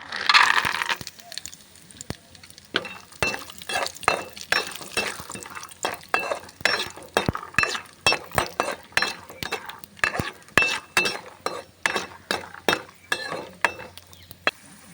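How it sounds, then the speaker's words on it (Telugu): Peanuts tumble and rattle in hot ghee in a pan, a steady run of crisp clinks and scrapes from a stirring spoon with a low sizzle beneath, close and continuous. "ఈ నెయ్యిలోకే పల్లీలు వేసుకుని వేపుకుందాం"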